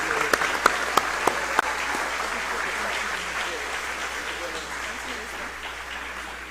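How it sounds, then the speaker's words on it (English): An audience at the State of the Nation Address 2025 applauds 44 new citizens, a few sharp, close claps standing out at first before a dense, sustained round of clapping that gently tapers. "Please join me in giving our new 44 citizens a big round of applause."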